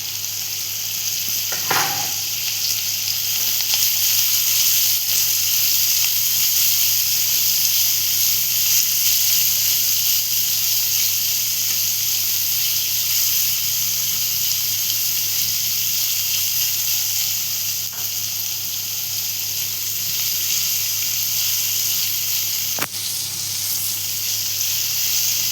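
Chopped onion frying in a pan for a red amaranth leaf vegetable dish, giving a steady, loud broadband sizzle throughout with a brief clatter near the start and no talking.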